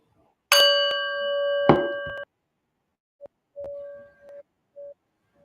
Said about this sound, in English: and listen to the bell.